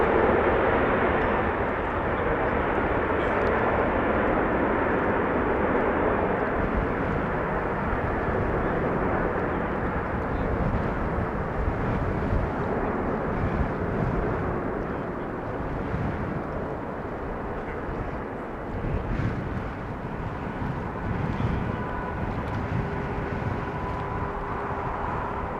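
A Boeing 747 airliner arrives at Amsterdam Schiphol in gusty wind, its engines a broad, steady roar that holds loud and rumbling for the whole stretch, with wind buffeting mixed in and no voices.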